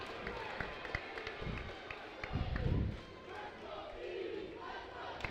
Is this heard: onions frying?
no